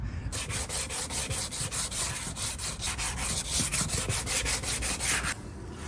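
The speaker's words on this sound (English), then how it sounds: "I'm going to use this 180 grit to go ahead and feather the edges all around the areas I just sanded" A plastic car bumper cover on a 1994 Acura Integra being sanded by hand with 180 grit sandpaper: a close, steady run of quick rhythmic rasping strokes that stops near the end, with no talk.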